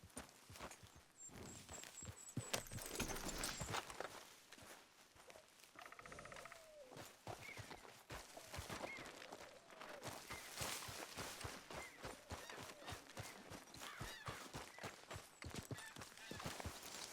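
Horse hooves clip-clop in a steady, continuous rhythm in Red Dead Redemption 2 as the horse travels, with faint ambient sounds and no speech.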